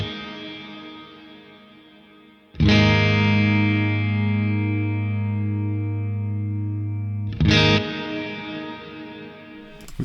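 Electric guitar through the Neural DSP Archetype Gojira plugin with shimmer reverb, two sustained distorted chords struck a few seconds apart, each ringing out long with a bright, airy shimmering tail, loud and alone.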